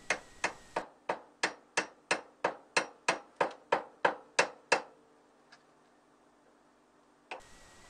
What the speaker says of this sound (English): lock the lock nut by tapping a screwdriver with a hammer.